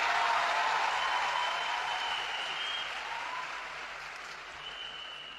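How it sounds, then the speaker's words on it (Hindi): An audience gives strong applause for the Prime Minister at a public event on direct selling, a dense steady clapping that gradually fades. "तो एक बार जोरदार तालियां देश के प्रधानमंत्री नरेंद्र मोदी जी के लिए"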